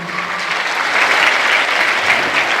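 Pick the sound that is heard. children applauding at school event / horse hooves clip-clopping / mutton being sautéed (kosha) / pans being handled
children applauding at school event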